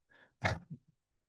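A single sneeze bursts out loud and short, with a faint intake before it and a couple of small trailing sounds, during a talk on AI vigilance in policing.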